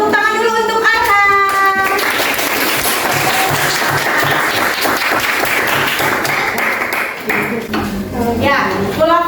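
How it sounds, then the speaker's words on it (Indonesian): An audience breaks into sustained applause, a dense burst of clapping lasting several seconds, loud and close, with voices talking before and after it. "Tepuk tangan dulu untuk Arham"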